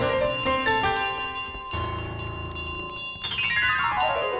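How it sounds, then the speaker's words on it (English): Bell ringing in Untitled Goose Game, bright metallic tones that jangle repeatedly and then sweep in a cascading shimmer, loud and without speech. "It's my bell!"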